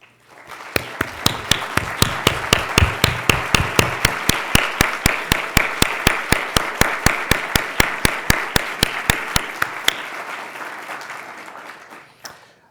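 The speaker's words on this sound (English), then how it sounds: "please stand so we can applaud you" Audience applause at the 2007 Goldsmith Awards ceremony: a sustained, loud round of clapping punctuated by sharp, evenly spaced claps throughout, tapering off after about ten seconds.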